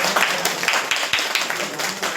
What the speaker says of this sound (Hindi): अरे तालियां बजते रहे